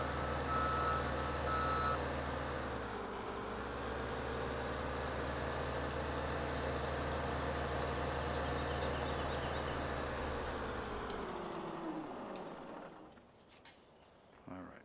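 A Ponsse forestry machine in Farming Simulator 17 drones with a steady engine hum and reversing beeps while being parked, then the engine winds down and cuts out near the end.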